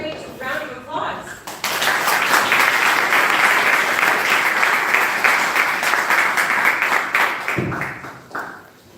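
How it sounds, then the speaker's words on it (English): Audience bursts into loud, dense applause for Devamrita Swami at a vegan dessert festival talk, sustained for several seconds after a brief spoken lead-in, then cutting off near the end. "So let's give him a great round of applause."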